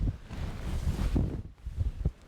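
Strong wind on a hilltop near a trig point, a loud roaring buffet battering the microphone in gusts, rumbling low and continuous for a couple of seconds.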